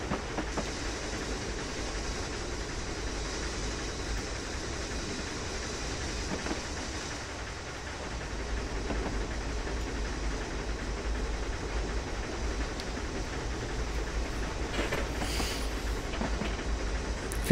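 A 14xx steam tank locomotive on the GNoSR lines in Train Simulator rolls steadily along the rails, a continuous rumble with clickety-clack and a faint hiss of steam, no voices over it.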